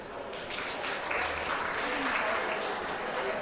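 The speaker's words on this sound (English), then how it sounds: "See how they're clapping in the background?" Continuous, dense clapping fills a legislative committee chamber, loud and sustained throughout, with voices mixed in underneath.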